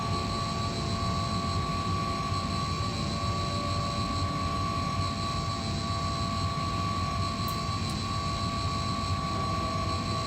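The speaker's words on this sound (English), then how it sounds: "Plane does well for taxiing this one." A simulated airliner taxiing in Microsoft Flight Simulator gives a steady, unchanging engine drone with a constant whine over low rumble, and no talking.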